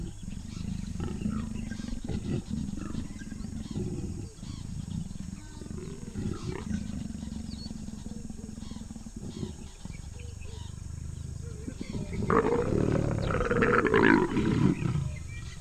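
A pair of leopards mating in a tree make an aggressive encounter of low, rumbling growls throughout, swelling into a louder, harsher roar toward the end, close and clear with no talking.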